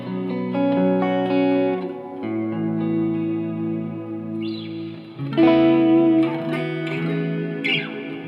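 Electric guitar notes and chords ring out through a Boss RV6 reverb pedal in dynamic mode, each phrase trailing into a lush, shimmering tail that swells and decays between strums, played alone without talking.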